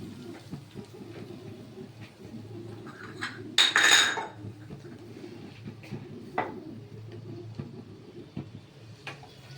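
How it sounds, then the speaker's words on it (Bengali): Vegetables for fried rice are stirred in a pan, with low clattering and scraping of utensil against metal under a faint sizzle and one brief louder metallic clank, close by and without speech. "সবজিগুলো একটু নাড়িয়ে নিলাম"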